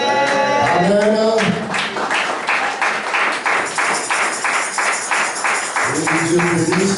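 A church congregation applauds in steady rhythmic clapping, loud and near, with a sung or chanted voice over the start and end.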